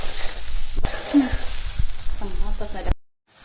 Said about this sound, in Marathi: आपण आता मुगाची डाळ टाकून घेणार आहोत भाजीला चांगली फोडणी बसल्यामुळे